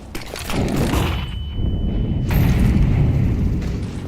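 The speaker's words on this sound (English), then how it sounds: "Flashbang." Flashbang grenade going off in a tactical shooter game, a loud sustained boom with ringing roar and a thin high tone.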